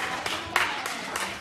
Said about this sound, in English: Let's clap for the choir as they take their seat.